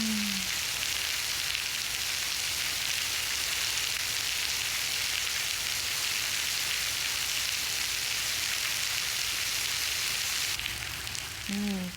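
At Gyeongbokgung palace in Seoul, a rainy day brings a constant crackling hiss of rain on surfaces, close and even throughout, with faint short tones near the start and end.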